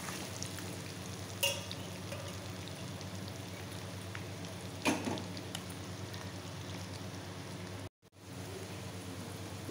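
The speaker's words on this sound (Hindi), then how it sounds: "अब हम इसमें आलू डाल देते हैं। आलू को हम अच्छे से तल लेंगे।" Potato pieces fry in hot, smoking oil, giving a steady, close crackling sizzle like rain, with a couple of brief louder pops and a short silent break near the end.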